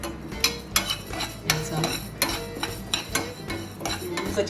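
Fenugreek and cumin seeds crackle in hot oil in a pan while tempering for a raw banana and sweet potato curry, giving sharp irregular pops and clicks over a soft sizzle, close and moderately loud, with no talking.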